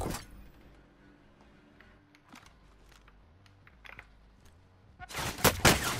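Gunfire in the Warzone battle royale game, a few faint scattered shots over quiet ambience, then a loud dense burst of rapid fire at the end.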